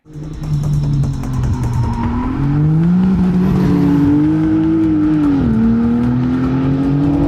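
A Ford Mustang GTD race car engine roars loud and close, its pitch climbing and holding as it accelerates, a sustained heavy drone from start to end with no talk.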